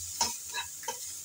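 Ginger garlic paste fries and is stirred in a pan for a fish finger recipe, giving a few short scraping, sizzling bursts close by, with no talk.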